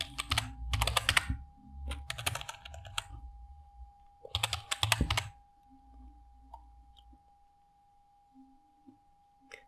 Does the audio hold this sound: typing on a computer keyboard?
yes